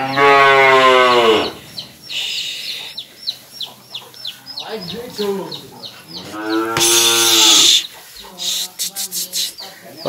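Cattle in a calf pen mooing loudly and nearby, with several long drawn-out calls from different animals separated by shuffling, and chickens clucking briefly toward the end.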